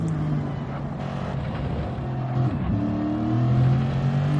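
A Lexus race car on the Red Bull Ring circuit during GT qualifying, its engine holding a long first gear with a steady drone that climbs in pitch and builds louder toward the end.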